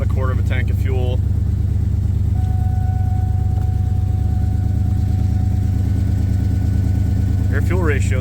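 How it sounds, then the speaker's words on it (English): A 2003 SVT Mustang Cobra idles with a steady, loud, rumbling exhaust and a noticeable exhaust leak. The tone stays constant throughout, and someone talks briefly at the start and again at the end. "Can hear an exhaust leak, not surprising."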